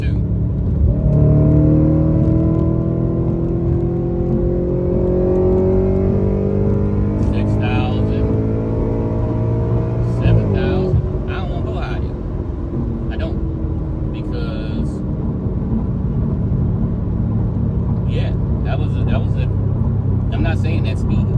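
A car with a Stage 2 ECU and TCU tune accelerates hard. Its engine pitch climbs steadily, then drops sharply at a gear shift before climbing again, loud and close, with voices talking over the drive.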